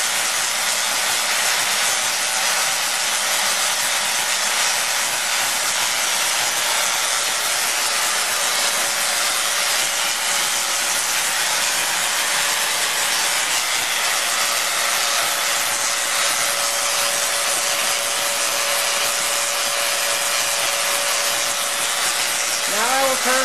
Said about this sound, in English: quench the spark gap, greatly increasing the output of the Tesla coil